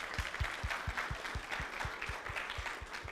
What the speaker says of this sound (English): So can we take a moment to, I don't know, clap?